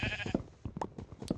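Black sheep in a zombie apocalypse survival video game give a few quick, close bleats in a rapid, choppy series.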